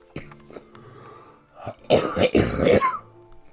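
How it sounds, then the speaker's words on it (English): A person coughs and clears their throat several times, a few short hacks followed by a louder burst of harsh coughing up close. "Hear me coughing."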